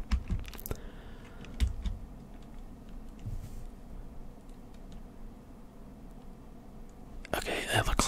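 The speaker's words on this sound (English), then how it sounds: "Hopefully the typing is somewhat relaxing and not super annoying." Fingers type on a computer keyboard during a Final Fantasy XIV session, with quick clusters of crisp key clicks up close, long softer stretches between them, and a whispered voice in places.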